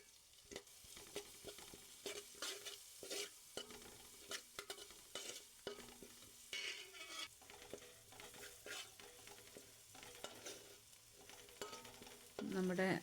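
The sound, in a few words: chillies frying in oil in a pan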